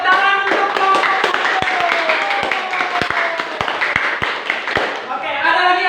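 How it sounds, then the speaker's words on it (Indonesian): Classmates applaud a student group after its presentation, sharp claps ringing out close and irregular over a steady murmur of talking voices. "tepuk tangan untuk kelompok 1"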